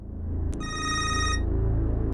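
A telephone rings loudly for an incoming call, one bright electronic trill over a low background rumble that runs through the whole short stretch.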